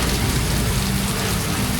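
Heavy, steady rain pours down during Typhoon Neneng, a dense, loud and unbroken hiss that fills the whole stretch.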